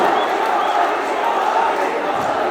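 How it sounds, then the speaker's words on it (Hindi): An audience at the TMU Kavi Sammelan 2023 poetry gathering claps in a dense, continuous wash of applause, loud and even with no gaps. "ताली बजाइए, जोरदार ताली बजाइए।"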